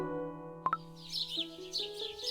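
Little birds chirp in a Cookie Run Kingdom cutscene, a few quick twittering calls layered over a soft sustained musical background, fairly quiet and with no talking.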